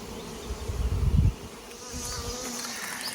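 Honey bees hovering at the gaps of open hives, trying to rob during a nectar dearth; a close whirring buzz with a louder rumbling pass early, then a steady swarm drone.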